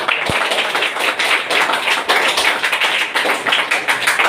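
Loud, dense applause from an audience at a weekly business plan presentation meeting in Akola, steady clapping throughout with a sharp tap near the start.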